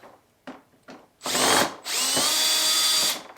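A power drill or driver whirs in short bursts while backing screws out of a Honda Civic dashboard, with a few faint taps before two long, loud, close runs of the motor.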